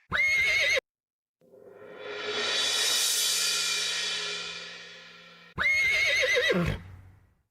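A long, loud horse whinny sample rises and fades on its own, framed by two short bursts of bright electronic tones before and after, in a house beat being built in music production software.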